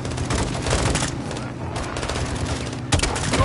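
Dense, loud gunfire in a Call of Duty: Modern Warfare 2 firefight, with continuous rifle bursts layered over booming blasts and a heavier explosion near the end, with shouted voices mixed into the battle.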